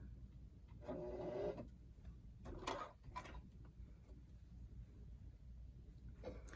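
An old, worn sewing machine whose feed mechanism no longer pulls the cloth stitches a rolled hem in short mechanical bursts of whirring, with pauses between runs, close and fairly quiet with no talking.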